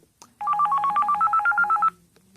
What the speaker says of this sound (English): that's the ringtone that you'll hear if you're roaming